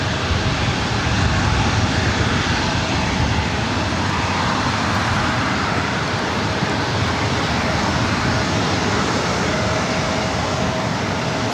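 Airliner jet engines roar at LAX airport, a loud, steady, broadband rush held close and unbroken for the whole stretch with no voices.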